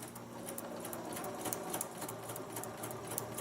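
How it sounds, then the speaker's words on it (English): A sewing machine stitches along the seam of a small bag, a steady continuous mechanical chatter with rapid needle ticks running unbroken close by, with no talk over it. "And now when I sew it, it's going to fit perfectly"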